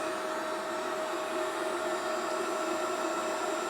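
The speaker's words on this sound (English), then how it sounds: "You can see the heat gun right there, which is nice and hot." Heat gun powered from a Redodo 12V 2000W pure sine wave inverter, blowing hot air in a steady, close, loud hiss with an even whine, alone and unbroken throughout.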